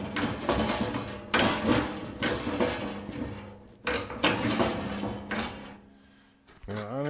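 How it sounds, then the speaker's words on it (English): The chute of a Nortrac snowblower is rotated, producing loud, clunky grinding and knocking in uneven bursts, close by with no talk. "the chute rotation is still clunky"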